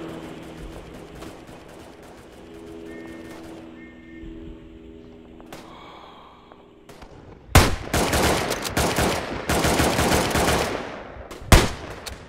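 Machine gun fire in the First World War video game Tannenberg, loud sustained bursts of rapid shots breaking in after a quieter stretch of distant battle noise, with one sharp nearby blast near the end.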